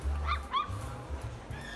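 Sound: puppies and dogs in a mall pet shop

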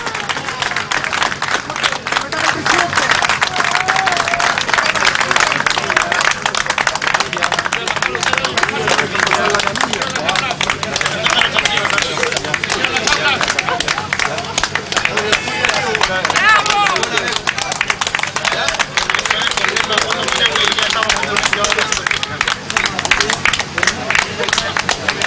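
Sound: crowd applauding at Chilean miners' rescue

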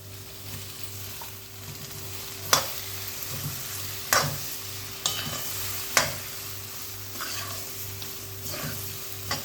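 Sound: spinach puree added to pan, stirring and sizzling for palak rice

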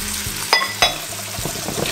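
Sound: flour being stirred into a hot pan

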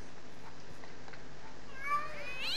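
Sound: cats meowing in Minecraft Mo'Creatures mod video game

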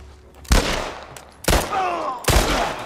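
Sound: gunshot in The Last of Us video game

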